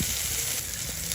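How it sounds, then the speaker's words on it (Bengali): Garlic and spice paste frying hard in hot mustard oil left from frying fish, a dense, steady close sizzle and crackle with no pauses, alone without any voices. "যে তেলে মাছ ভাজি করছি ওই তেলে হচ্ছে যে এখন মশলা করে নিব"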